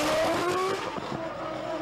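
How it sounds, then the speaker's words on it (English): A Williams FW24 Formula One car with a screaming BMW engine roars loudly past on the streets of Stuttgart during a demonstration run, its pitch sweeping high then fading into a lingering roar. "Ralf Schumacher has been setting the streets of Stuttgart ringing with a scream of the BMW engine in"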